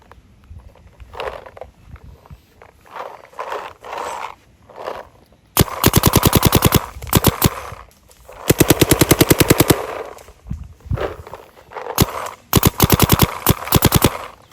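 Bursts of rapid paintball marker fire from high-end Planet Eclipse markers (Geo R5, LV2, CS3), preceded by several single spaced shots, then long fast strings of sharp pops, loud and close.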